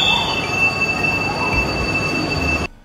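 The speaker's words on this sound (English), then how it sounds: "our train that we were on left us behind to continue on its journey" Passenger train departing Zhaoxing station in China, loud steady rumble of rail cars with high metallic wheel squeal, close by, cutting off abruptly at the end.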